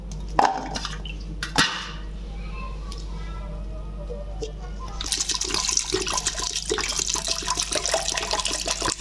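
Jackfruit seeds being washed: a few knocks and splashes at first, then a steady rush of running water from a tap over the seeds, close and fairly loud.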